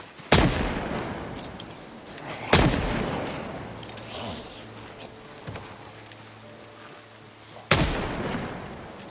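.38 Special revolver fired in the video game Project Zomboid, three sharp loud gunshots spaced a few seconds apart, each with a ringing decay, with faint quiet game sounds between them.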